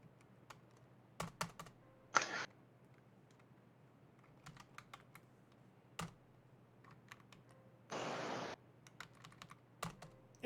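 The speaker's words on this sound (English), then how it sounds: "Make sure you're typing the command correctly." Typing on a computer keyboard during a Linux command-line session, scattered individual key clicks with brief bursts of rapid presses, close and quiet with no talk.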